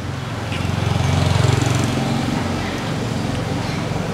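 A 2017 Kawasaki Z1000 ABS motorcycle idles up close during idle screw adjustment, a steady low pulsing rumble held for a few seconds.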